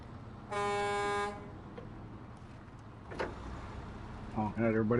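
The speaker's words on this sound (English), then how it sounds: "Honking at everybody on the farm, making sure they're awake." In the SnowRunner video game, a truck horn gives one loud, steady blast lasting under a second. Quieter engine noise follows, and people talk near the end.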